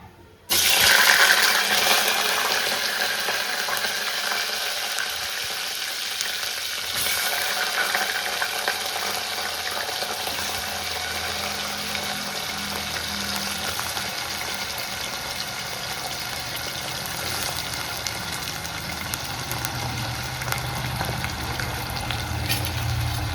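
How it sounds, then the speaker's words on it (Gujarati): Potatoes drop into hot oil where mustard seeds have already popped in a home kitchen pan, setting off a loud, sustained sizzle that stays steady throughout with small crackles. "બટેટા સરસ રીતે તેલમાં સાતરી લેવું પડે."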